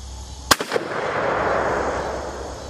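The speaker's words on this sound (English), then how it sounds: "Let's send another downrange, see if we hit our target." A single gunshot from a Royal Tiger Imports No1Mk3 rifle at an outdoor range: one loud, sharp crack with a quick echo, then a long rolling rumble that fades slowly.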